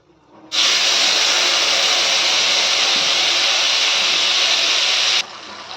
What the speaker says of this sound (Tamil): நான் வந்து புளி தண்ணி சேர்த்துட்டேங்க